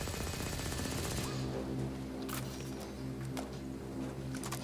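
Rapid automatic gunfire from a weapon in the video game Firefall, a fast continuous burst at first that gives way to scattered shots over a low droning hum.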